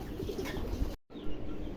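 A pair of black Danish pigeons of Pakistani bloodline coo softly and close by at a fancy-pigeon farm, with a brief break in the middle of the soft cooing.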